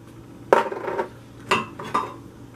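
A spoon knocks and scrapes in a pot while beef bouillon base is mixed into shepherd's pie filling, giving three distinct clinks, the first the loudest, with no talking.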